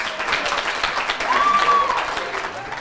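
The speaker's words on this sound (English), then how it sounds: "Big round of applause." Studio audience at a local bachelorette-style dating show gives a round of applause, a steady wash of clapping for a few seconds with a brief tonal sound over it.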